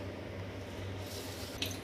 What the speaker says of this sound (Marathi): आता हे पीठ मी मळून घेते थोडं थोडं पाणी टाकून